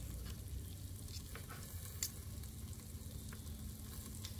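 Steak bites with garlic butter sizzle on a Blackstone griddle in a steady, close, crackling hiss. Faint scraping and stirring ticks come through now and then, with no talking.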